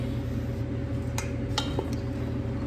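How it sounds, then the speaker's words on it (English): Flour being stirred into bread dough for Saint Lucy braided bread with a measuring cup, a few light clinks and taps of utensil against bowl over a steady background hum. "You're just kind of adding in and stirring as you go to help things get incorporated"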